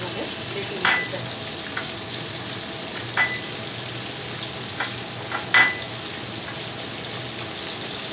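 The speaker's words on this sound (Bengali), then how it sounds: "দেখুন মাছটাকে আমি যতক্ষণে ভাজছি" Fish frying in oil for a mustard-paste dish, a steady low hiss with a few brief sharp pops and utensil knocks spaced out, moderately loud, without talk.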